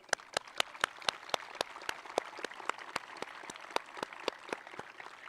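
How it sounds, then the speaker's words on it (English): Sparse, distinct claps ring out at a high school graduation ceremony as alumni stand, a thin scattering of hands clapping at a moderate distance, fairly quiet overall. "Give your alumni a round of applause"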